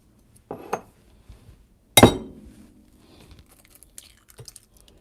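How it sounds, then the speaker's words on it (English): An egg cracked open in a kitchen during breakfast cooking: a light tap, then a sharp crack against a hard edge, followed by soft crinkling and faint clinks, close and quiet. "I will crack open my egg"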